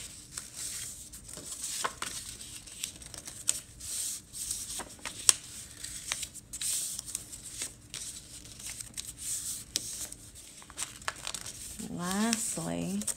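Paper is crimped by hand to make a cape for a goody gift bag, giving soft, irregular crinkling and rustling throughout, fairly quiet, with a short burst of voice near the end.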